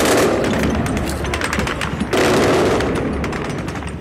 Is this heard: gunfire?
yes